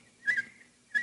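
A man whistles a short birdlike phrase imitating a nightingale's song, two quick clear bursts a moment apart, close and fairly soft against a quiet background.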